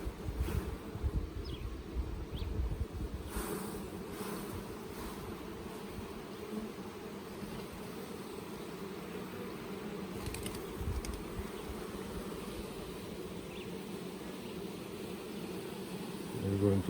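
Honey bees buzzing around an opened commercial beehive, a steady low drone of many insects with some rustling and wind buffeting, a voice briefly present near the start.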